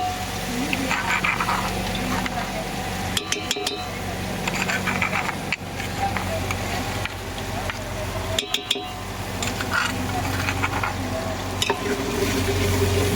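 Masala fries in a pan with fenugreek leaves and onions, giving a steady close sizzle under repeated scraping stirs and a few sharp clinks of a spoon against the pan, while a voice speaks faintly at times.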